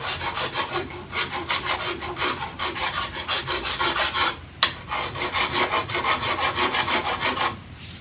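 A metal file rasps burrs off garage door spring parts in rhythmic back-and-forth strokes, about two per second, close and harsh, with a brief clank midway.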